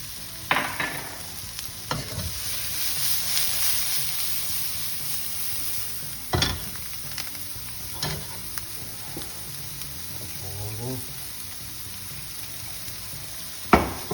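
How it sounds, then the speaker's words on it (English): Dried onions sautéed in oil in a pan: constant close sizzle with sharp spatula scrapes and clacks against the pan every second or two, with no one talking. "I just saute those around for a couple of minutes until they get nice and, you know, translucent-y, sweaty-ish"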